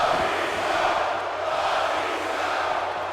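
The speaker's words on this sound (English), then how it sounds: "And you get a crowd. Some people cheer for Batista." Crowd noise from a WWE 2K18 Universe Mode Raw wrestling match in Sacramento: a steady, dense arena roar of cheering fans, loud and continuous without breaks.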